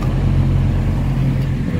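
Heavy truck engines rumble loudly and steadily nearby, a deep continuous drone of big vehicles.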